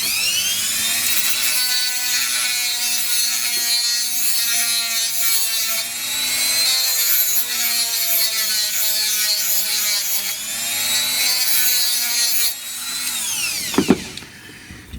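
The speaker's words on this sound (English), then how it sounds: "Using a little Dremel tool to remove a little bit of the plastic from this new cable." A small Dremel rotary tool grinds plastic from a new cable for a GHD 4.2 hair straightener, a close high-pitched whine that dips and rises in pitch as it bites, then stops briefly near the end.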